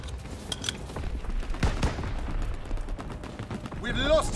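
Rapid gunfire and muffled explosions crackle through a Call of Duty: WWII team deathmatch on the flak tower map, a continuous, dense barrage close by, with brief shouted voices in the mix.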